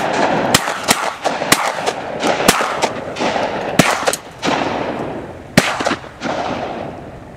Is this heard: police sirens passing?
no